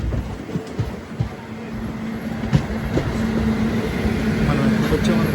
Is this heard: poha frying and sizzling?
no